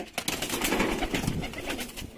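A yellow-eyed pigeon coos close by in a low, throaty burble, repeated soft calls run together in quick succession with no voices.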